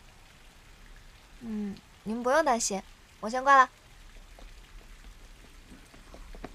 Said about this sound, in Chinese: 挺好的，就是有点下雨。